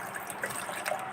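Warm water trickles into a bowl holding salt, a brief faint pour of gentle liquid splashing close by.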